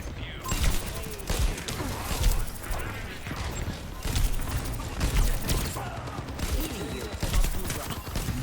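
Video game gunfire, a busy stream of sharp, mechanical bursts and clicks that pulses through the clip at fairly constant loudness.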